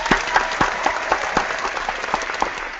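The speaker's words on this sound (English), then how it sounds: "I want to give a big round of applause." Audience applause after a panel introduction, a dense steady wash of many hands clapping with a few sharper individual claps standing out, fairly close and continuous throughout.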